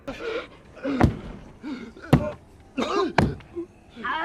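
Several sharp slams and thuds strike an RV door being held shut from outside, repeating irregularly amid moans and gasps from people trapped inside.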